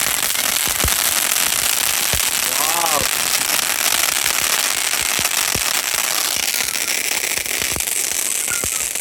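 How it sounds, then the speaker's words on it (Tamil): A Mojito string of firecrackers bursts during Diwali, a rapid run of sharp cracks and pops with scattered louder bangs, the rattling string carrying through the whole stretch against a constant noisy crackle. "மொஜிட்டோ சரக்கு வெடி."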